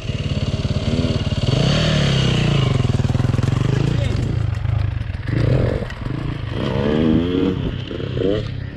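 A JM250 dirt bike rides over rocks, its engine close and loud, revving and rising and falling in pitch, with rattling clatter and scraping mixed in and voices talking over it.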